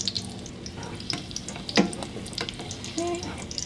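A turkey giniling torta, a Filipino ground-turkey omelet, fries in a pan with a steady close sizzle and crackle, punctuated by a sharp utensil clink and occasional light scraping.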